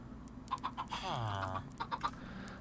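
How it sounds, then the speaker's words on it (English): A chicken in Minecraft clucks in short repeated bursts, with a low drawn-out villager-like groan in the middle, all fairly quiet and free of talk. "Get out of there, chicken."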